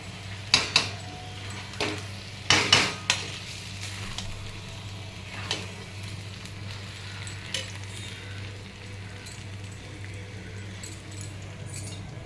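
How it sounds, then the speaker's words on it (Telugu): A spoon stirring potato and cauliflower butter masala curry in a pan, a few sharp metallic scrapes and clinks near the start over a soft steady sizzle, then quieter occasional taps. "ఒకసారి ఈ కూర వేసాక ఒకసారి కలుపుకుందాం"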